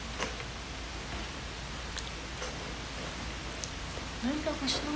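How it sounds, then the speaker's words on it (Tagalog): Heavy rain falling steadily as a dense, even hiss of drops on leaves, continuous and fairly faint, with soft voices near the end. "Ang lakas ng ulan."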